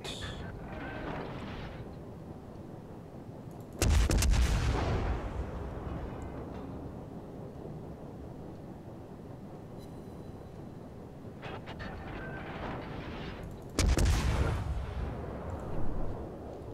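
Ship artillery salvos in World of Warships: two heavy booming gunfire blasts, each a sharp loud onset with a long rumbling decay, about ten seconds apart over steady low game ambience.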